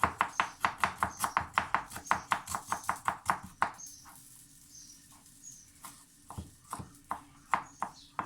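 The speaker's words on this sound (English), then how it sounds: "Slice your ginger, like so." A knife slices ginger on a cutting board in a fast, steady run of close, crisp chops, then pauses and gives a few scattered, slower cuts.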